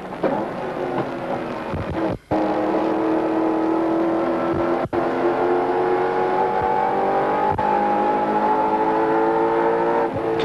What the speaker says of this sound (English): that's Gricey in the number 16 car heading up to the right-hander at Ripco Corner.